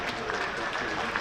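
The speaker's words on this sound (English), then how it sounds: "And applause from around the ground" Applause from spectators around a cricket ground during a Hampshire versus Worcestershire one-day cup quarter-final, a steady dense patter lasting a moment, somewhat distant with broadband crowd noise.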